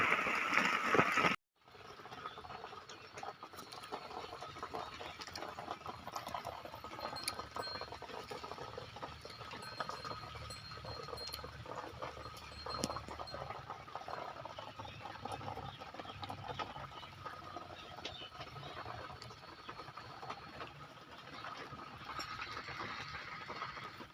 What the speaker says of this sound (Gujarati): જો વરસાદ પણ ચાલુ છે અત્યારે